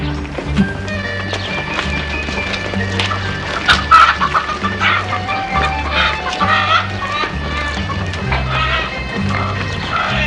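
A hen clucks repeatedly, mixed with horse hooves clip-clopping and a busy outdoor film scene full of background sounds.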